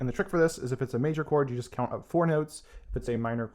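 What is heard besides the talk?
None of the usual background noises is heard.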